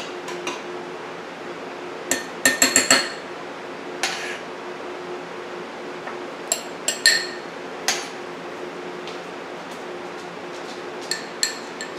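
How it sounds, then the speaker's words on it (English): A spoon scoops pudding onto berries in a trifle dish, with sharp clinks and taps of metal on the dish coming in small clusters among quiet stretches, over a faint steady background hum. "Now we're going to take the spoon, put the pudding on top of the berries."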